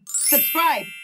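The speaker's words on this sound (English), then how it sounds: "that's my alarm telling me it's 11:11 to make a wish." Short bright phone alarm chime, a quick two-part melodic ding ringing close and clear on its own.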